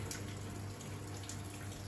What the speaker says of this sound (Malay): Ni masuk air punya